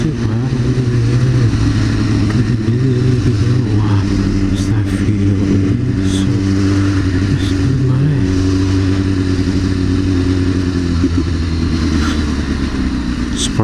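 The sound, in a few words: sports motorcycles, FZ09 and Kawasaki, revving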